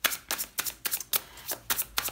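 A deck of tarot cards being riffled and shuffled by hand in quick, crisp bursts, about eight papery flutters in a steady rhythm, close up and alone.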